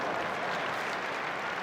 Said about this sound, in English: The reactions to AMAKUSA's offense are getting louder and louder, by the way, from the crowd.